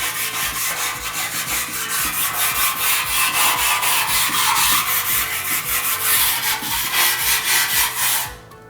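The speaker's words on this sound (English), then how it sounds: "I would just wire brush it." Wire brush scrubbing rust scale off the back of a chrome car bumper, with loud, close, rhythmic rasping strokes repeating steadily for several seconds before stopping abruptly.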